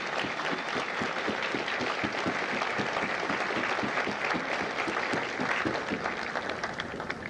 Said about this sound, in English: please join me in a well-deserved round of applause for the drill instructors and the families of Bravo Company